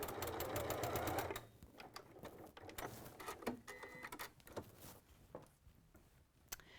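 A sewing machine top-stitching a tote bag runs in a fast, steady burst for about a second, then stops, leaving quieter handling noises and a few faint clicks.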